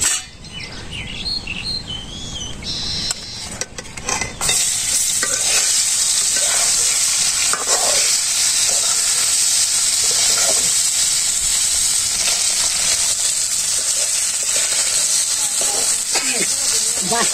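Fish seasoned with turmeric, chili and cumin drops into a hot wok and bursts into loud, continuous sizzling and spitting after a quieter start. A few faint bird calls carry in from outside.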